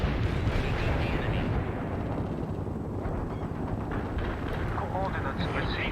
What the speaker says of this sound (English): We can start a heavy barrage.